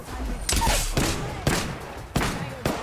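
Enemy gunfire cracks during a battle royale video game match: about five sharp, separate shots at uneven intervals, each fading into a short tail, fairly close and loud.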